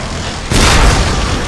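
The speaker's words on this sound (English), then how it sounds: "We gotta work on those explosions that follow after you zap stuff" A video-game explosion in The Last Guardian, set off after a zap, bursts in as a loud, close boom with a deep rumble that holds and slowly fades, following a brief quiet lead-in.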